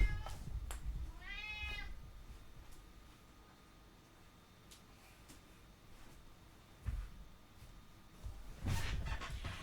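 A house cat gives a single short, wavering meow near the start. It is followed by quiet background, a few soft knocks, and a louder rustle at the end.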